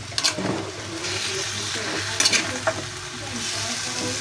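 Chicken feet frying in a pan are stirred, with a steady, loud sizzle and scraping clatter of the utensil, a few sharper knocks breaking through near the start and middle.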